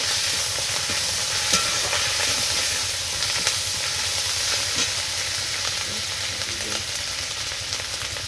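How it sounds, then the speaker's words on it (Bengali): Crab stirred with ginger paste in a hot pan, a loud unbroken sizzling and steaming hiss with occasional soft stirring knocks, close and sustained with no one talking. "এবারে আদা বাটা দিয়ে সেটাকে নেড়ে নিতে হবে।"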